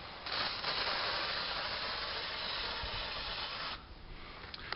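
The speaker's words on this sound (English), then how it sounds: "I get my old surface cleaner and just spray it all over the place" Surface cleaner is sprayed all over a caravan in one long, steady, close hiss that lasts several seconds, then fades to a quieter spray and a few small knocks near the end.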